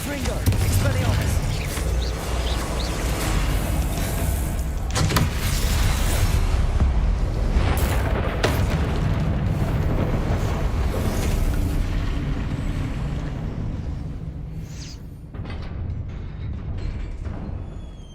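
Spell blasts and explosions in the Hogwarts Legacy video game: a continuous roar of booming bursts and crackling impacts, loud throughout and fading near the end, with a voice shouting over the action.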